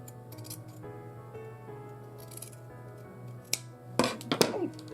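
Scissors snip through skirt fabric while an Edwardian-style walking skirt is being made, a few close crisp cuts clustering near the end over a steady low hum.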